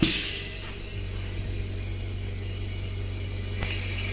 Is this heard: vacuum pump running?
yes